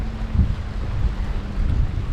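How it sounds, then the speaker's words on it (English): Sea breeze buffets the microphone on a beach in Maputo, Mozambique, a loud, gusting low rumble with faint water washing beneath, with no voices. "I feel something really nice about this breeze and sound of the water."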